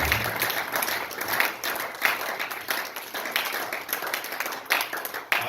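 A church congregation claps and cheers in praise of the king, a dense, continuous round of applause that fills the room for several seconds with no break.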